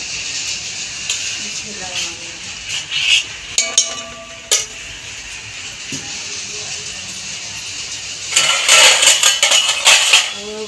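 Onion masala tadka being fried and stirred in a pot in a home kitchen, with metal spoon scrapes and clinks against the pot, a louder sizzling stretch near the end, and someone talking over it.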